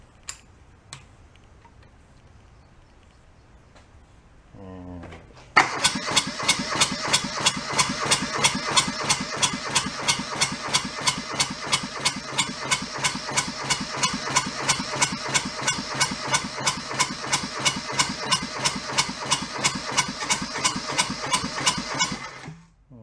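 A junked small diesel engine cranks over after a few quiet knocks, then catches and runs with a loud, steady clattering idle for roughly seventeen seconds before cutting off abruptly.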